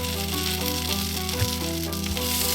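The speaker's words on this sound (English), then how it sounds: "I smell already shallots. In fact, they needed to be stirred. They started to get a little bit brown." Shallots sizzle in a pot on an induction burner, a loud, continuous frying hiss with a faint electrical hum beneath and a couple of small bumps.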